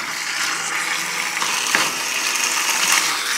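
Pasta is stirred through a thick creamy sauce of squash and crème fraîche, giving a steady wet squelching and clicking texture, close and continuous, with no talk.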